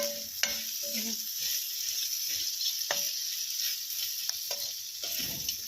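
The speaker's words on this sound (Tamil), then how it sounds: "இந்த மிளகா பொடி, மஞ்சள் பொடி எல்லாம் சேர்த்து இந்த தக்காளி வத்தலோட கொஞ்சம் ஃப்ரை ஆகணும்" Chili and turmeric powder fry in oil with sun-dried tomatoes for a tangy tamarind curry, a constant hiss of sizzling broken by several sharp spoon scrapes and clinks against the pan.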